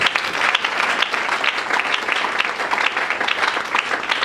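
A church congregation claps loudly, a thick continuous burst of applause from many hands that stays strong and even from start to finish.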